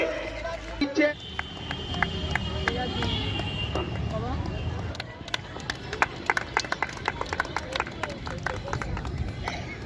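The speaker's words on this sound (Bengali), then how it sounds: "তোমরা হাততালি দাও সকলে।" Schoolchildren and guests clap at a prize-giving during a girls' school centenary in Ranaghat, with scattered, uneven claps under crowd noise and a speaker's voice, becoming more frequent toward the end.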